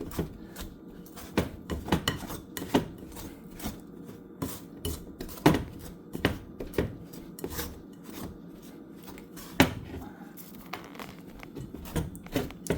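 Pastry cutter working butter into a flour mixture for coffee cake, giving repeated scraping, clinking strokes against the bowl in an uneven rhythm, close and fairly loud with no talk.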